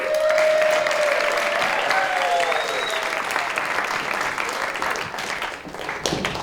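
Audience applause at a medieval-themed kick-off cabaret, a broad, steady wash of clapping that stays loud and slowly thins toward the end, with faint cheers mixed in.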